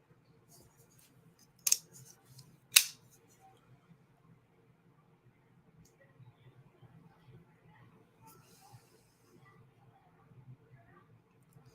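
A sharp knife slices through paper in two crisp, brief cuts early on, followed by a long stretch of quiet, faint rustling over a low steady hum.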